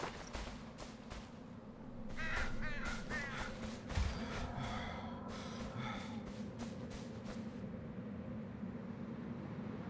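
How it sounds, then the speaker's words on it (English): Birds in the video game Enshrouded give a run of raspy caws over a steady low background rumble, fairly faint, then fade into ambient noise. "they're just birds"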